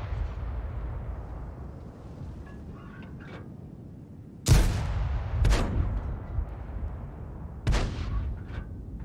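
Blind shots from tanks in a tier 6 stronghold skirmish game: three heavy booming blasts, two close together and a third a couple of seconds later, over a low rumbling battlefield ambience.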